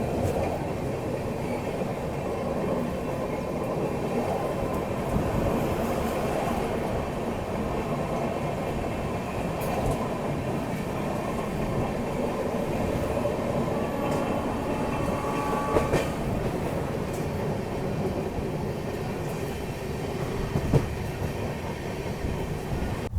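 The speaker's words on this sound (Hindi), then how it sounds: "उस पे सामने से ये आ रही है गोवा एक्सप्रेस" Steady rumble and clatter of rails heard from inside a moving train near Itarsi and Bhopal in India as the Goa Express approaches on the adjacent line, continuous and moderately loud with faint squeaks, no talking.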